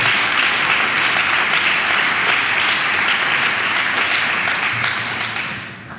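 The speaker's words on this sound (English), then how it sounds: "let's give warm applause also to Mr." A crowd at a Model European Parliament closing ceremony in Tallinn applauds the next speaker, sustained dense clapping from many hands that stays loud and even before tapering off toward the close.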